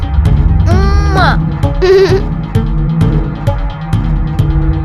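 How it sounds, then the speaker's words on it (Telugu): A young goat bleats twice, close and clear, with a shaky rising call and then a shorter one, over steady low background hum and music in a dramatized crime show scene. "ఈ మేక బాగుంది కదూ"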